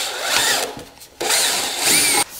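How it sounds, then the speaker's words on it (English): A power drill bores a hole through the top center of a car's front spoiler lip, in two loud, close whirring bursts split by a brief pause. "we need to drill a hole in the top center of this so we can get this thing mounted in the center"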